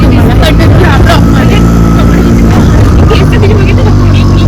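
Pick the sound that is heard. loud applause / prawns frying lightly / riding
riding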